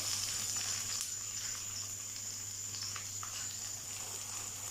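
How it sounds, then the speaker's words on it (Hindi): Onions fry in a pan for smoky brinjal bharta, a steady, close hiss and sizzle with faint crackles running throughout over a low hum. "सबसे पहले इसमें प्याज ऐड कर देंगे और प्याज़ों को हल्का ब्राउन कर लेंगे।"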